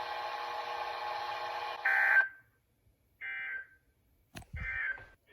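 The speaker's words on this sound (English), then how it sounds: "This is a test of the National Weather Service NOAA Weather Radio Warning Alarm System." A NOAA Weather Radio warning alarm test tone sounds in loud, steady bursts: a long sustained tone, then two shorter beeps separated by gaps, with a sharp click between them.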